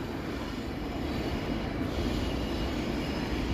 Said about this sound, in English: That one GO train was really short. And then this one is like crazy long.